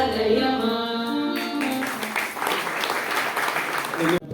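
An audience claps at a devotional Lakshmi hymn recital, with sustained applause rising after sung tones fade, and talking over the clapping.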